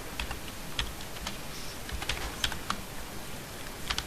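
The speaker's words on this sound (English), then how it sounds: "And then I can just type in my text" Steady, close-up tapping on a computer keyboard while entering text in AutoCAD, an even stream of soft clicks with a few sharper keystrokes standing out.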